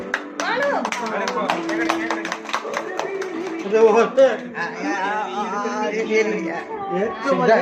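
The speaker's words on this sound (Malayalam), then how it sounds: "കയ്യടിക്കടേ എല്ലാരും." Scattered clapping from a small crowd at a New Year event, mixed with lively overlapping chatter and voices that soon take over.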